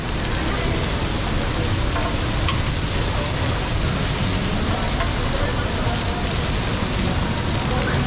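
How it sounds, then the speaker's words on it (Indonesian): Steady, dense rain patters and hisses continuously, an even wash of noise with no gaps, fairly loud and close. "Jadi berhubung lagi hujan"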